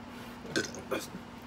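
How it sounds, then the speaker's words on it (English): A man lets out a short, close burp after chugging a Double IPA beer, heard as two quick throaty bursts in a row in an otherwise quiet room. "see, there's the fucking burp."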